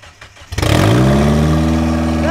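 A Mazda Miata engine, just after an idle repair, catches and revs, rising from a quiet rumble into a loud, sustained mid-pitched drone close by, with no talk.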